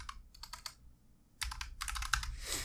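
Keys pressed on a computer keyboard, several quick clusters of clicks separated by short pauses, close and fairly crisp with nothing else heard.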